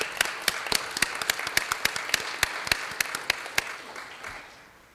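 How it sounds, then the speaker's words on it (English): A board meeting audience gives a round of applause for a visiting class, sharp claps rising into a steady patter before trailing off, with no one speaking. "let's give them a round of applause"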